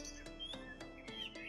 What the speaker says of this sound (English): The birds are so loud here.